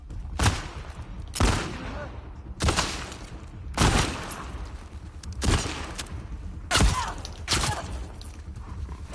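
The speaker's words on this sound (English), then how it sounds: "Everyone is shooting me from every fucking direction!" Heavy gunfire coming from many directions in the video game The Last of Us Part II, with about seven sharp loud bursts at irregular intervals over a continuous noisy background.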